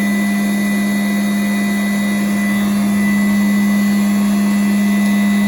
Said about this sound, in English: You just lower it down and you want to close on the vacuum.